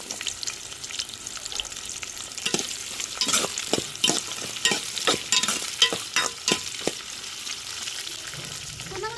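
Onion, garlic and green chillies sautéing in oil in a pan, a soft steady sizzle under a run of sharp, rhythmic spatula scrapes and knocks that come in quick succession and then fade.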